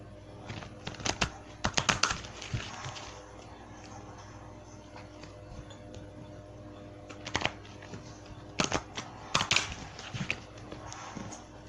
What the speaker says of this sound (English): Shuffle a couple of times.